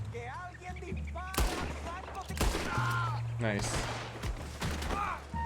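Sharp gunshots from the video game Red Dead Redemption 2, several loud single cracks spaced irregularly across the scene, mixed with game sounds and voices speaking in between.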